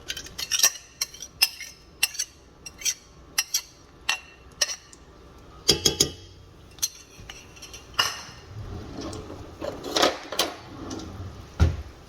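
A spoon clinks and scrapes against a metal pot as pureed onions are stirred in oil, making irregular sharp taps and scrapes close by with a faint sizzle underneath.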